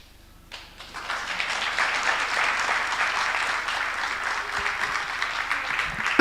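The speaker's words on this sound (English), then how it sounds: "Let's continue clapping." Applause at a general assembly begins abruptly after a brief quiet and swells into a dense, steady wash of many hands clapping that holds evenly to the end.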